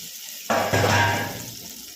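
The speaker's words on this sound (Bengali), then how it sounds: "মশলা ধোয়া জলটা দিয়ে দেবো।" Spice-rinsing water is poured over hilsa fish in a pan with hot oil, a sudden splashing pour that swells, then tapers off after about a second.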